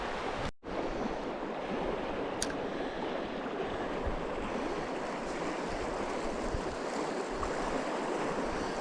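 The East Fork Carson River runs fast and shallow at Hangmans Bridge, California, a steady, loud rush of water close by that holds without a break, with a brief dropout near the start.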